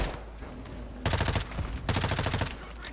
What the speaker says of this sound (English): I'm wasting all my bullets right now.